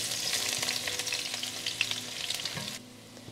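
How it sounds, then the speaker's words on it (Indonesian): Chopped shallots fry in hot oil for Padang-style satay, giving a steady, dense sizzle with crackling pops close up, which drops off sharply near the end. "Minyaknya udah panas teman-teman. Sekarang kita goreng dulu bawang merahnya ya."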